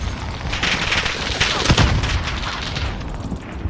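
A frag grenade goes off in a Warzone match amid a dense spray of gunfire, with a sharp blast standing out near the middle over continuous loud shooting and booms.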